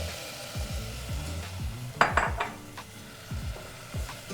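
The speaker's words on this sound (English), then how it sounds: "Give it a good stir." Prawn curry with coconut milk stirred in a pot, soft repeated spoon scrapes and swishes with a brief clatter of metal against the pot, close and alone with no talk.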